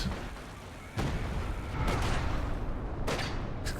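Mine detonating in a Company of Heroes 2 match, heard as a few sharp booms and gunfire-like bursts at moderate loudness over a steady battlefield din, with no speech.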